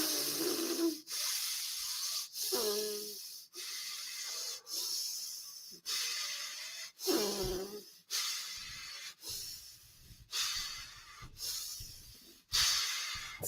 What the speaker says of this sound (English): now we're going to breathe out through the mouth all the way.